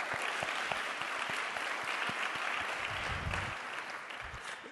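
Steady applause from a college audience at a public dialogue event, moderately loud and continuous throughout, with no talking over it.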